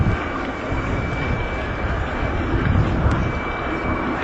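A jet fighter with RD-33K engines and reheat flies at the Farnborough airshow in 1992, giving a steady, loud, broadband roar that holds evenly throughout with no voices over it.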